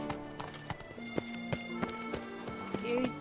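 Roach the horse galloping in The Witcher 3, fast rhythmic hoof clip-clops pounding close and clear against a soft game ambience, with a brief whinny-like tone near the end.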